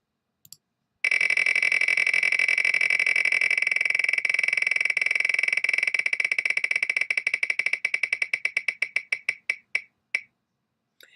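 A prize wheel spun during a giveaway rattles through a rapid, loud stream of ticking clicks that gradually spread out and slow to a stop.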